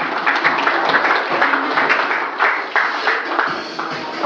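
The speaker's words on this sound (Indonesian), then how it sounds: "Tepuk tangan luar biasa." Dense audience applause fills a hall at an Indonesian product presentation event, a steady wash of many hands clapping throughout with no break.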